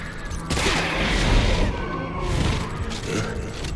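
Sustained video game combat noise with gunfire and booming impacts rolls on steadily, loud and dense throughout.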